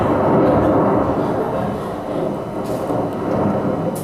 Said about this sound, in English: Alas, the storm must come again.